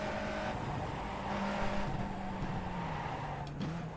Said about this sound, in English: I felt the car slide a little bit there too. You might have heard it; the back tires slid.